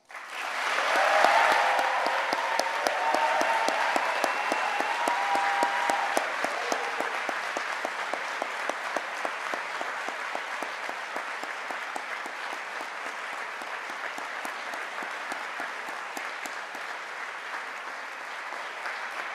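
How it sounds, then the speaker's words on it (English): Graduation ceremony audience at Liverpool University applauding, sustained steady clapping across the hall with a few cheers early on, gradually easing but continuing throughout. "I think you should all give yourselves one more round of applause."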